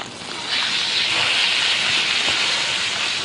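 Steak searing in a hot pan, a steady loud broadband sizzle that swells as the meat is turned and holds constant, with no talk.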